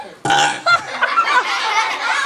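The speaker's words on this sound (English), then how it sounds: "Well, that burp came." A loud, drawn-out burp rolls on for about two seconds, rough and gurgling, performed on a children's music show and standing alone without any talk.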